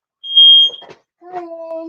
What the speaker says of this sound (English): so I have to go fix that because that's a new fire alarm